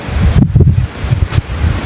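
Strong wind buffets the microphone with a loud, rough roar that gusts unevenly throughout.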